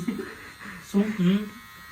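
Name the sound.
electric hair clipper cutting hair at home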